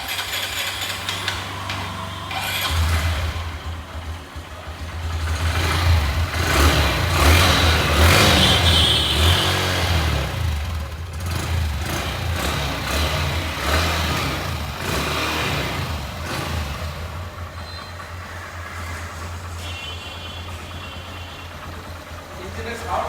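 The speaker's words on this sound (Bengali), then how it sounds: "ইঞ্জিনের সাউন্ড একদমই স্মুথ।" A 2024 Honda Livo 110cc motorcycle starts and idles, a steady low engine hum with a few throttle blips rising and falling, close by, with traffic noise in the background.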